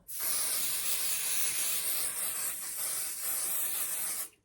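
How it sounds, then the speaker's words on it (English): Spray adhesive hisses from a can onto quilt batting in one steady, close, continuous burst lasting about four seconds before cutting off, with no talk. "I'm going to take my trusty little adhesive"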